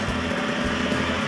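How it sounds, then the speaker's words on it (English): A Proton KR3 racing motorcycle's three-cylinder two-stroke engine idles steadily with a buzzy, even drone, heard close by for a brief moment. "Do not be deceived by the quiet engine noise, the 3-cylinder 2-stroke."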